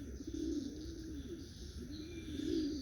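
Racing pigeons coo softly at the loft in the early morning, a repeated low rolling coo close by, quiet and steady with no talking.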